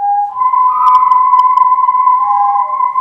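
Several whirled pipes whistle together, their steady tones blending into a loud layered hum with a slight wavering beat, a few faint clicks partway through.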